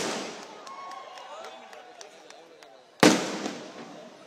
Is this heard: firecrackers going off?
yes